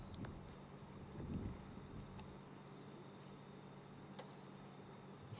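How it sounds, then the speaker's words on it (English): Crickets chirp in the African bush at night, a faint steady high trill continuing throughout, with soft rustling and a few small clicks nearby. "you might just be able to hear very subtle sounds of crickets"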